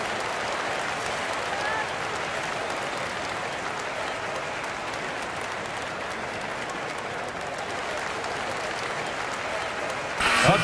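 An arena crowd cheers and applauds during a basketball timeout, a dense, steady wash of clapping and cheering that swells slightly at the end.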